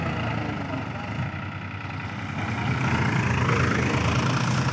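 A Farmtrac 60 tractor engine labors while stuck during a trolley-pulling contest, a steady low diesel drone that swells slightly louder toward the end, with no talk over it.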